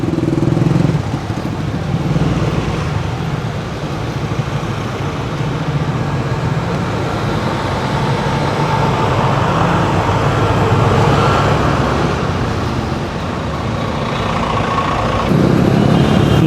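Road traffic surrounds a rider on a Yamaha Mio Gravis scooter: a continuous, loud roar of nearby engines and wind, fairly even throughout, with no talking.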